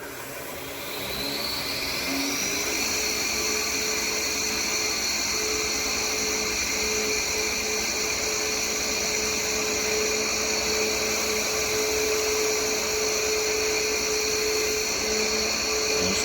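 Power buffer spinning up and buffing a glossy finish coat into a wall surface: a steady, close high-pitched motor whine that holds constant throughout, with no talk.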